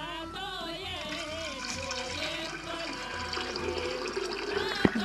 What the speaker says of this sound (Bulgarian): Слагам водата.